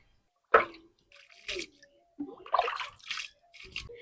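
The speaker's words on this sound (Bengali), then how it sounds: "এখন ডিম দুইটা ধুয়ে নিব পানি দিয়ে পরিষ্কার করে" Two duck eggs are rinsed under water, giving short separate splashes and trickles with quiet gaps between them, close by and heard alone.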